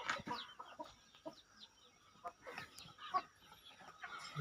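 A rooster clucks repeatedly in short, uneven bursts, fairly close, with a quiet outdoor background and no talking.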